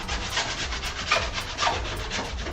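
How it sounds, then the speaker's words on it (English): File deburring rivet holes in an aluminium airplane aft fuselage, quick repeated rasping strokes in a steady rhythm, close and moderately quiet. "we need to deburr there with the file"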